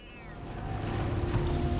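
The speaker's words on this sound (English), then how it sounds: "I hear you, kitty cat." A cat meows in the video game Baldur's Gate 3, one drawn-out meow that rises and fades against a low ambient game background, with no talking.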